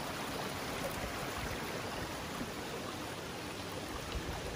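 Steady rushing of a waterfall along a mountain hiking trail in California, a continuous broadband roar of falling water filling the whole clip with no voices.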